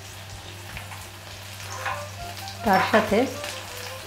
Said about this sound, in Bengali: এবার ওই একই তেলে আমি আলুগুলোকে ভেজে নিচ্ছি।